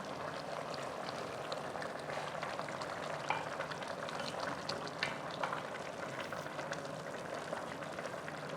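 Osoko soup bubbling in a pot, a soft continuous churn of boiling liquid with scattered pops and crackles, faint and steady with no voices.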